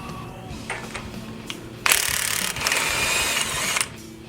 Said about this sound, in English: The first step is to remove the axle nut.